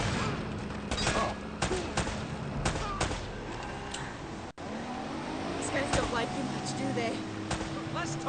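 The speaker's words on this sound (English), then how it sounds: "More shooting." Bursts of gunfire in the video game Uncharted: Drake's Fortune, repeated sharp shots and volleys close and loud, mixed with game noise and voices talking over it.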